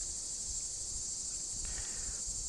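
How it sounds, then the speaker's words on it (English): A continuous high, buzzing drone of crickets and cicadas chirping outdoors, faint and steady throughout, with no voices. "all these bugs chirping like this? Cicadas going off."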